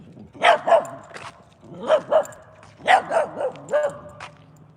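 A pair of loose dogs barks loudly and close by in short clusters of two or three barks, repeating across the stretch with brief gaps.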